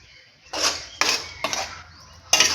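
Spoon scrapes and clinks in a pot as tamarind water is stirred into a Thanjavur-style dried fish curry, four short close strokes with quiet pauses between them.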